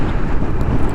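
Strong wind buffets the microphone during a ride on a Royal Enfield Interceptor motorcycle in Provence, a loud, low, continuous rumble with gusty fluctuations and no voice.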